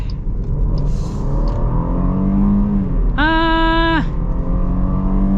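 A mid-size SUV at full throttle, one of a 2023 Ford Explorer, Dodge Durango or Jeep Grand Cherokee L, with a steady loud engine drone and road rumble heard from inside the cabin and a rising engine tone as it pulls.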